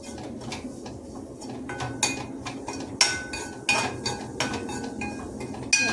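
Spoon stirring ingredients in a cooking pan: a quiet series of metallic clinks and scrapes at irregular intervals over a faint background hum, with birds chirping in the distance.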